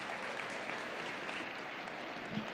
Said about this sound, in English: Let's give them a big round of applause and congratulate those individuals.